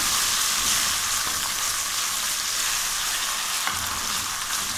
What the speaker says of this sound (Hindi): जब तक लहसुन पकेगा तब तक प्याज और थोड़ा कुक हो जाएगा।